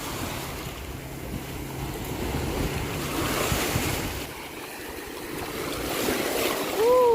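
Sea waves breaking on a clear-water beach in Thailand, a steady close wash and roar of surf with rising and falling swells, mixed with wind buffeting the microphone and a brief faint tonal sound near the end.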